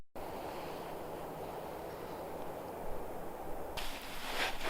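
Wind blowing outdoors on open Wyoming antelope-hunting country, a steady broad roar buffeting the microphone that swells brighter and stronger near the end, with no voices.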